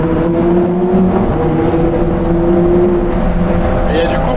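A Lamborghini Huracan STO's engine roars loudly and steadily from inside the car near cliffs, a continuous rich drone with strong low harmonics and no pause throughout.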